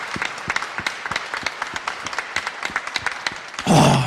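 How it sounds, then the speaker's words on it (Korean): A church congregation at an evening spring revival service in a large sanctuary claps in quick, crisp, fairly regular beats, then swells into a louder, fuller burst of applause at the end. "감사와 영광의 박수를 내가 드릴 수 있는 최고의 박수를 한번 드립니다"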